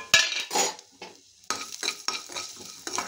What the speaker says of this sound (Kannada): ಈಗ ನಾನು ಮಸಾಲೆಗಳನ್ನೆಲ್ಲ ಹುರಿತಿದ್ದೇನೆ.